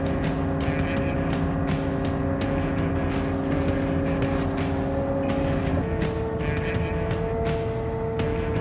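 An Apache self-propelled crop sprayer pulls forward in first gear, its engine holding a steady drone with tonal hum that shifts pitch midway as it starts moving, running alone without talk.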